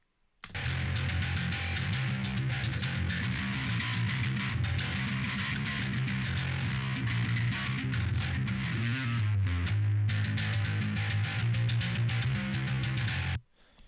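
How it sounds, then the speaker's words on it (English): A bass guitar plays on its own through three bass cabinet simulators, a thick, driven tone with some distortion that runs loud and continuous with steady notes, then cuts off sharply at the end. "The bass sounds like this on its own."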